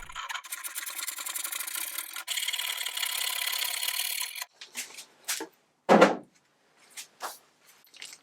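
Steady, gritty rasping of scraping and sanding on an oak sideboard being stripped to bare wood for several seconds, followed by scattered knocks and scrapes of tools against the surface.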